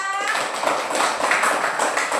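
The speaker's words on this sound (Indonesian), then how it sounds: "Tepuk tangan untuk kita semua." Students in an Indonesian classroom clapping together, a dense, steady burst of many hands after a short trailing voice at the start.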